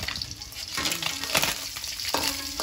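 Food fries in a pan with a steady close sizzle, broken by stirring scrapes and bursts of crackle, alone without talk.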